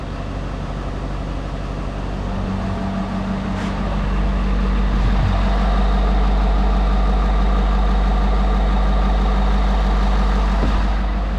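A truck engine idles steadily and close by, a deep continuous rumble with a low hum that holds even for the whole stretch, with no talking over it.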